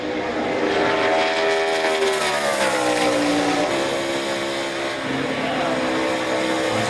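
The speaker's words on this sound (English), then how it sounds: "That's just to keep the RPMs up on the engine, keep the car freed up, carry as much speed as possible" A NASCAR Sprint Cup race car engine revs hard on a qualifying run along the high line, a loud, continuous roar whose pitch rises and falls steadily through the whole stretch.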